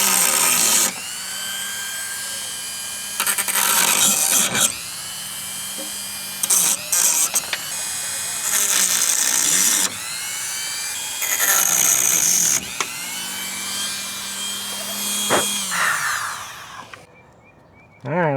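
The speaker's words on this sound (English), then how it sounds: "So I gotta cut these rivet tabs off," Power tool cutting off rivet tabs while repairing a sagging window on an F-body car, heard as loud, high whining bursts that start and stop repeatedly, a few seconds each, with short pauses between.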